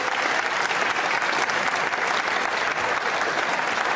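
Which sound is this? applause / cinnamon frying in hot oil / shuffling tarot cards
applause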